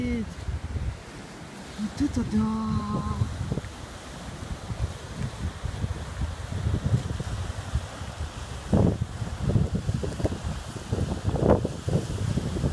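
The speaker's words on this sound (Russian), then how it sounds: "А это Атлантический океан." Wind buffets the microphone on the French Atlantic coast at Quiberon, with a steady rush of ocean surf underneath and excited voices speaking in Russian over it.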